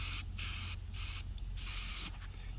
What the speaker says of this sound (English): Now I'm going to start hitting it with just real light coats of this green.